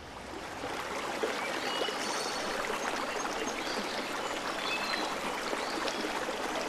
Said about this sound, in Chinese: 倾听那清朗的溪水